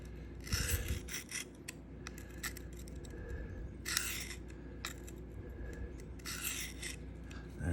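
Steel of an S110V knife blade rasping across a Sharpal field sharpener in repeated strokes, close and fairly quiet, with short bursts of scraping separated by pauses.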